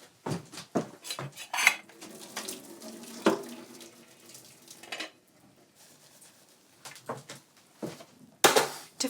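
Cooked peas being drained in a sink, with water gushing and splashing in bursts alongside clanks of a pot against the basin.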